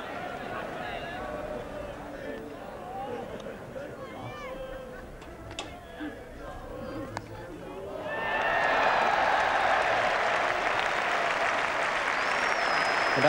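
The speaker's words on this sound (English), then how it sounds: "the crowd is now animated" Applause swells from a cricket crowd at an Ashes Test match involving England and Ian Botham, rising to a steady, broad roar of clapping in the latter part after a quieter stretch of ground noise.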